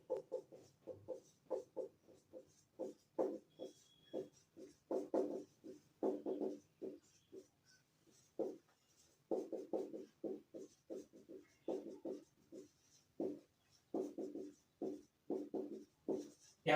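Chalk taps and scratches on a classroom board during a Class 10 maths lesson, short rhythmic strokes in quick bursts with brief pauses, fairly close and faint.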